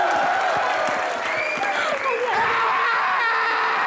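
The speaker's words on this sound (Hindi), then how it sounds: "जोरदार तालियां।" Loud studio audience applause on an Indian comedy talk show for a best-song award, dense clapping mixed with cheers and whoops, continuous throughout.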